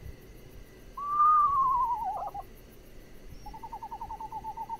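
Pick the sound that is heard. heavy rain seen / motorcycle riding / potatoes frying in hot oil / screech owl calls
screech owl calls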